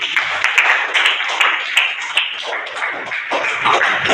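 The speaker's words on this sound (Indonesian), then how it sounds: "Tepuk tangan untuk tadi." A classroom of students claps in a lively burst, many crisp, close hand claps overlapping in an uneven patter that comes in waves and carries on the whole time.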